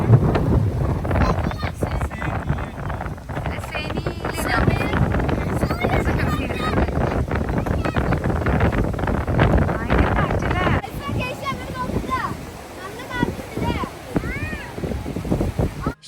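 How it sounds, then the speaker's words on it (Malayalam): Strong wind at a temple at night buffets the microphone in loud, rumbling gusts, with someone talking continuously over the noise. "ഈ ഒരു ടൈമിൽ നല്ലോണം ഇവിടെ കാറ്റുണ്ടായിരുന്നു"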